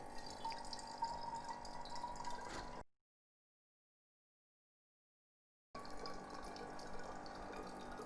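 Water runs steadily from a rechargeable electric pump on a large water jug, a continuous close trickle and splash into a container, cut by a few seconds of total silence before the flow resumes.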